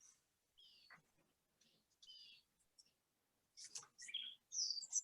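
Morning birdsong outside a window in Southern California, with several short chirps and whistled phrases scattered in bursts, fairly faint and distant, and livelier toward the end.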